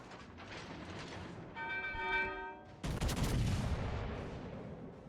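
Heavy naval guns boom as the battleship AL New Jersey fires shells in World of Warships Legends, a tonal mechanical hum giving way to a sudden loud, rumbling salvo that slowly decays.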